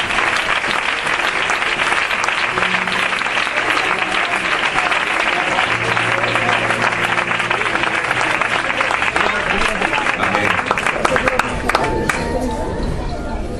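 A church congregation breaks into loud, sustained applause that fills the room evenly for over ten seconds, mixed with crowd hubbub and a few raised voices.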